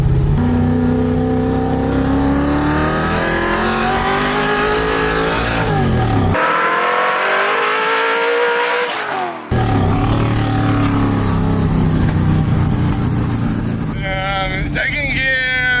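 1965 Ford Mustang engine accelerating hard in second gear, a loud rising roar that climbs through the revs, cuts briefly for a shift, then builds again, with a voice over it near the end.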